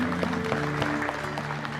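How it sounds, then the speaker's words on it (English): An audience claps in a short, moderately loud burst of applause, with a low hum underneath. "Give these guys a big round of applause."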